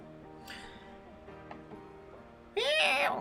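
A person imitates a cat with a few drawn-out meows, the last one louder and higher, over a quiet background of soft humming tones.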